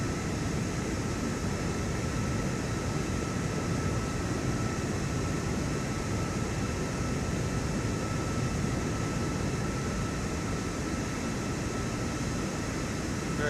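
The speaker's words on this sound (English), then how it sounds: "There you go, there's your takeoff." Airplane taking off in Microsoft Flight Simulator 2024, a steady, loud, broadband engine roar and rushing air that holds constant throughout without pauses.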